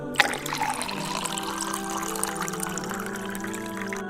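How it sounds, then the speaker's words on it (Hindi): Lukewarm water pours steadily into a glass holding two or three ice cubes, a soft continuous trickle and splash after a brief knock at the start, fairly quiet and close. "अब 1 गिलास नीम गर्म पानी और 1 खाने का चम्मच शहद शामिल करके अच्छी तरह मिक्स कर लें।"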